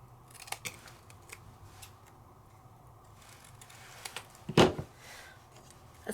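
Scissors trim paper at a papercraft desk, with one crisp, close snip standing out near the end. Faint small handling ticks come before it in an otherwise quiet space.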